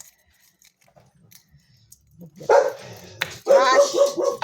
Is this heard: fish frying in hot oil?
no